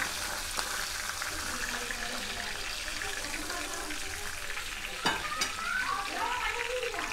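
Whole cumin, green chilli and bay leaf sizzle in fish-frying oil while being stirred, a soft steady hiss with occasional spoon scrapes and a couple of sharper clinks near the end, no voices.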